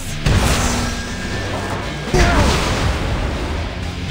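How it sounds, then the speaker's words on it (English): Explosions in the Night Agent mobile video game, two loud booming blasts about two seconds apart, each followed by a rumbling, crackling tail. "explosion!"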